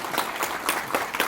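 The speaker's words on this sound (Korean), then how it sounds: "이 대목에서 박수 한번 주시면 안 됩니까?" Audience applause at a company meeting, a brief burst of many hands clapping at a steady, fairly loud level with no talk over it.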